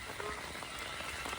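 Heavy rain falling outdoors at night over flooded fields, a steady, faint hiss of drops on wet ground, with no talk and no pause.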